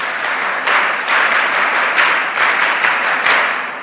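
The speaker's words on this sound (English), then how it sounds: "Please give him a round of applause." A crowd at a mentorship session applauds steadily, dense clapping holding at an even level throughout.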